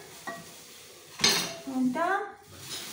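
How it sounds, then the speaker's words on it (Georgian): A pot being washed in a home kitchen: metal clanks and scraping knocks in brief bursts, fairly quiet and close. "ესე იგი ქვაბი გავრეცხე."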